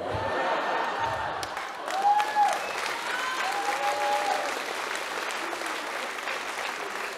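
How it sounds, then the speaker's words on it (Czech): Audience applause at a stand-up comedy show rings out as a sustained, even wash of clapping with faint crowd voices and whistle-like calls, holding steady throughout. "poprvé mi za to někdo zatleskal"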